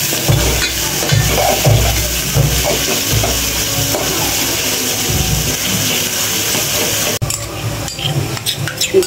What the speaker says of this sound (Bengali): পেঁয়াজ একটু ভাজা ভাজা হোক।